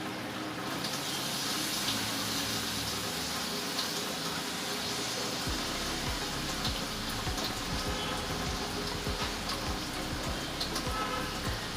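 Cluster beans drop into hot masala in a pan, starting a loud, steady sizzle and hiss with scattered crackles and pops, close by and continuous.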